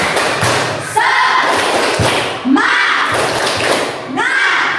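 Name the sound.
class doing a rhythmic 'tepuk semangat' spirit clapping chant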